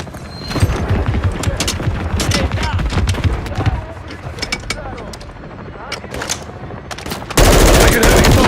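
Heavy gunfire during a reactor mission in Modern Warfare 3, with dense, rapid automatic bursts and single cracks amid booms and mechanical clatter, then a sudden loud roar at the end, all under voices in the game.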